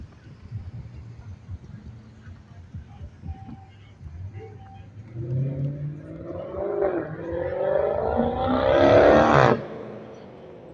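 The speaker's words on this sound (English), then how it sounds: "Wow, it's a loud engine." A loud car engine on a street in Griffin, Georgia revs up and roars closer, rising steadily to a peak before cutting off sharply, over a low background rumble.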